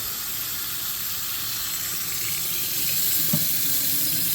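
Water runs steadily from a Kingston Brass kitchen faucet, just repaired for a leak at its pivot, as a continuous close hiss that swells slightly near the end.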